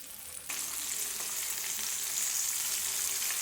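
Popcorn chicken pieces drop into a small pan of hot oil, a faint background suddenly bursting into a dense, steady sizzle of deep frying that stays close and even.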